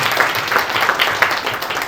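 An audience at a speech event claps in thanks to the organisers, a dense, steady patter of many hands at moderate distance with no talk over it.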